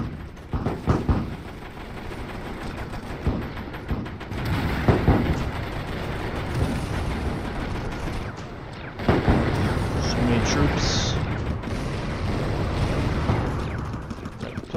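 Toy-soldier battle gunfire in Attack On Toys, with scattered shots and heavier booms spread across a busy, continuous battle din, while someone talks over it at times.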